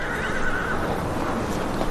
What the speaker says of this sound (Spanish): Afuera está el caballo que me prestó.